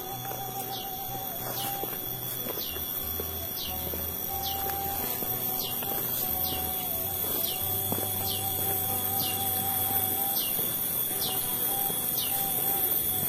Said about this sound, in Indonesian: yang terdengar itu hanya suara kicauan burung dan hewan-hewan khas perkebunan sahabat